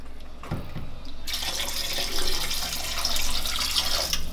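Apple cider vinegar pours into a bowl in a home kitchen, a continuous splashing liquid stream after a few brief knocks, fairly close and without talking.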